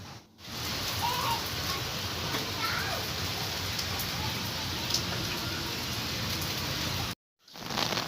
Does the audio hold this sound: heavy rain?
yes